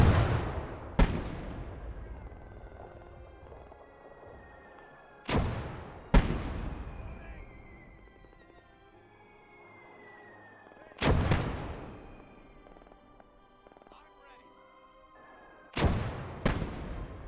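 Heavy artillery cannon blasts in a WWII video game set during a German counterattack at Carentan, five loud booming shots spaced irregularly, each with a long rumbling decay and faint background battle ambience.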